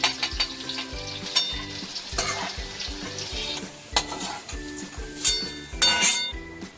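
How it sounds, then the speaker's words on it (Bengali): Capsicum fries in a pan for vegetarian fried rice, sizzling steadily under repeated scraping stirs and sharp metallic clinks of the spatula, in a brisk, uneven rhythm. "এরপর ক্যাপসিকামগুলো ভেজে নিচ্ছি"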